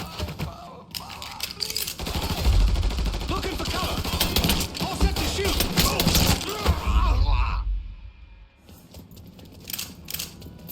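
Dense, loud gunfire in Mafia 3 with rapid bursts and sharp cracks through most of the clip, mixed with shouting voices, before thinning into scattered shots near the end.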